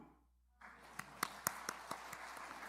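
Church congregation at a Sunday sermon breaks into scattered, sparse claps after a brief silence, a handful of distinct hand claps at a modest distance under a quiet room tone.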